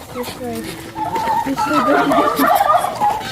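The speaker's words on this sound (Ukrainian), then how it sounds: "А ці е, індики, Настічка, заганяйте туди в хлівчик той." Turkeys gobble in a bubbling, rapid chorus, close by, while being herded into a small shed, with a voice heard briefly at the start.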